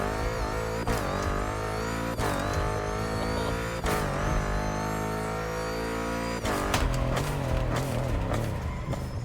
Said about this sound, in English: I've already got an engine sound on it